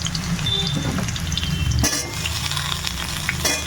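Halved pointed gourd pieces drop into potatoes frying in a pan, giving a burst of sizzle, clinks and stirring scrapes close up that settle into steady frying with no voices.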